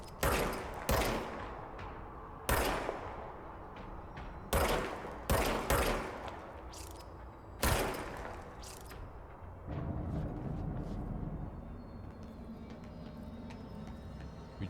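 A handgun in the game Control fires loud, sharp single shots at an uneven pace, about seven or eight cracks with brief echoing tails, followed by a low rumbling ambience.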